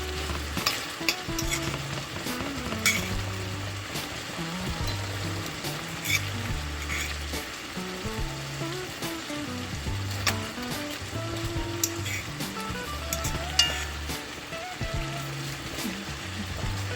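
Snapper fish sizzles and fries as it goes into a hot Dutch pot for a Jamaican stew, a steady crackling hiss running throughout with stirring and occasional clinks of utensils, no talking.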